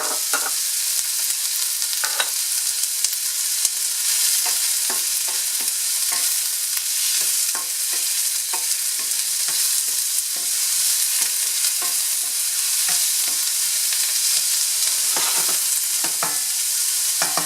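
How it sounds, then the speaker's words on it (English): Chopped onion sizzles steadily in a hot pan for spring egg rolls, with a spoon scraping and stirring in irregular clicks and scrapes over the constant frying hiss, close and fairly loud. "Give the onion a chance to turn translucent."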